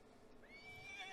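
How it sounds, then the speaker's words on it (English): Horse in Farming Simulator 19 giving a single short, faint whinny with a rising then wavering pitch, brief and alone. "Checking in on the horses."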